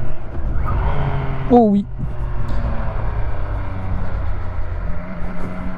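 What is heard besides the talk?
MV Agusta Dragster RR motorcycle engine sound while riding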